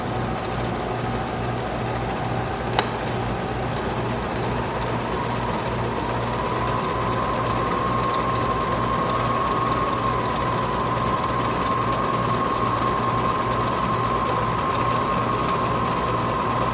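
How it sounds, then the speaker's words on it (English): A sewing machine hums steadily while stitching yellow fabric pieces for a candy corn dress, a continuous close mechanical drone with a faint higher whine that holds throughout. "I know you just watched me sew the sides of the yellow pieces"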